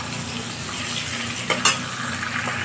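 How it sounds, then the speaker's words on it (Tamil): Onions sauté in a pan for kurma kuzhambu, a soft steady sizzle with a brief clink of a utensil and stirring partway through, close and moderately quiet, with no talk. "இப்போ நம்ம வெங்காயம் சேர்த்துக்கலாம். இப்போ இந்த வெங்காயம் வதங்குறதுனா அப்படின்னா ரொம்ப கலர் மாறக்கூடாது"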